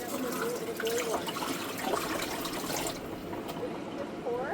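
Water poured down a sink drain, a steady rushing, gurgling wash that runs throughout at moderate loudness, with faint voices in the background.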